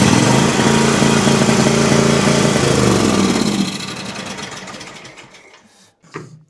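Exmark Vantage S mower engine running rough with popping and low power, a loud steady mechanical drone for several seconds that then drops off and winds down to near silence, with a brief knock near the end.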